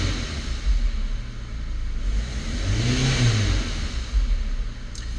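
A car pulls away and accelerates on a test drive, its engine note rising in a smooth rev sweep over steady road rumble, heard from inside the cabin.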